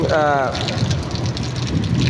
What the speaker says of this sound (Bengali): যে বৃষ্টিটা দেখতে পাচ্ছেন, আমার বোধ হয় 25 সালে এর চাইতে বেশি বৃষ্টি আর হয় নাই